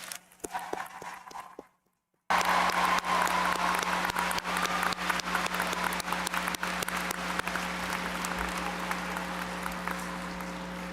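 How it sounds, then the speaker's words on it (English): Graduates at a Fleming College convocation receive a big round of applause from the audience, which breaks out loud after a brief hush and carries on as steady, dense clapping to the end. "let's give everyone one more big round of applause"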